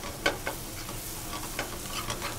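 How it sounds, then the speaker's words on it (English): Shallots and fresh thyme being stirred in hot oil, a soft steady sizzle broken by a few quick scraping stir strokes near the pan, with no talk. "to that we're going to add a little bit of fresh thyme, and let's give it a stir"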